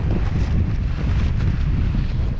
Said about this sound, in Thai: ลมแรงครับวันนี้